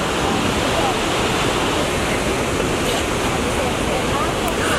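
Steady roaring rush of a waterfall pouring into a pool during a road trip across Washington, loud, continuous and even throughout with no break.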